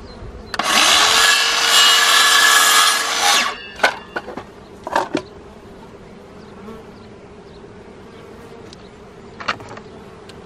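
A power saw cuts through a plywood board in one loud, continuous burst lasting about three seconds, then stops, followed by a few sharp knocks and clatters of the wood being handled.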